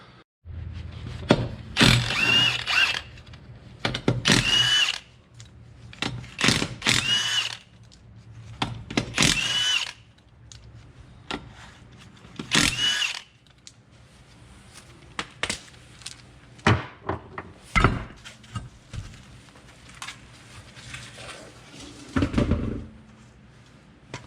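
A power tool removes a wheel from a 2004 Toyota Camry in a series of sharp, loud bursts of whirring and rattling, separated by short pauses and quieter handling noises.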